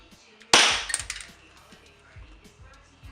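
A KWA ATP airsoft pistol fires one loud, sharp close-range crack, followed by a few faint, quick clicks and taps.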